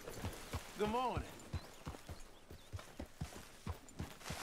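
Horse hooves clip-clopping in the Red Dead Redemption 2 video game, a quiet, steady rhythmic trot of hoofbeats with a brief whinny near the start and a person talking over it.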